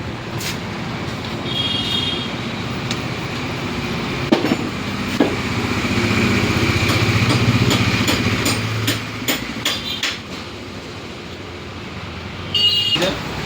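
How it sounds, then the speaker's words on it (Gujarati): A motorcycle engine runs steadily at a rumbling idle after being jump-started in a garage, with a few sharp clicks and knocks over the top, close by and fairly loud. "આપણે જમ્પ સ્ટાર્ટ મારીને એની બાઇક ચાલુ કરીએ છીએ"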